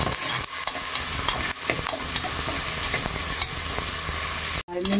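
Onions and green chillies frying and being stirred in a pan for a catering-style brinjal and peas curry, a steady loud sizzle with scraping stir strokes throughout and a brief break near the end.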